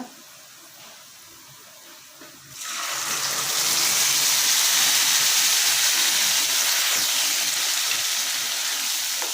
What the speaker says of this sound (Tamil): இப்போ வந்து நம்ம கடைஞ்சி வச்சுருக்க பீர்க்கங்காய் உள்ளே ஊற்றிடலாங்க